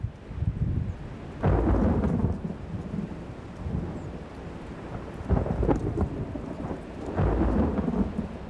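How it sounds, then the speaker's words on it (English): Thunderstorm with steady rain and several heavy rumbles of thunder rolling in at intervals, each swelling loudly over the constant hiss of rainfall, no voices present. "a thunderstorm broke on the horizon"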